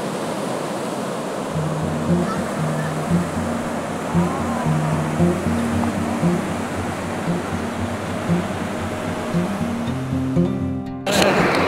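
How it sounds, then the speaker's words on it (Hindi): Strong ocean waves break at Majorda Beach in South Goa, a steady, close roar of surf that continues unbroken, with a faint low hum underneath. "वो लहरें बहुत तेज हैं यार"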